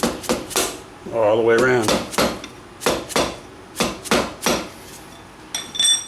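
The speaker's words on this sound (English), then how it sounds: "Take you a drift, a short 3/8 drive extension, whatever, and just tap it in." A drift or short 3/8 drive extension tapping a Banshee axle bearing into its housing, giving a series of sharp, ringing metallic knocks in an uneven rhythm, close and fairly loud, with brief speech in between.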